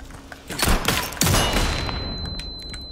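Gunfire and explosive blasts from the Resident Evil 4 Remake video game, a dense rumbling fusillade with a heavy boom partway through and a long fading tail, loud and without speech.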